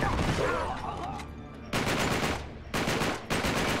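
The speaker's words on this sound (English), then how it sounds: "Knowing that there's a lot of gunfire, that plane will take off straight away." Machine guns rattle in the video game Uncharted 3: Drake's Deception, loud sustained bursts broken by short pauses, then renewed fire in several close volleys.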